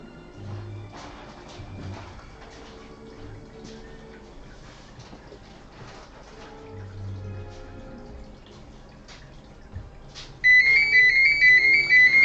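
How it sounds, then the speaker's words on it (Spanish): A phone rings partway through, a loud, steady electronic melody that cuts in suddenly over quieter background sounds of a live illustration session and keeps going to the end. "Voy a tener que coger el teléfono."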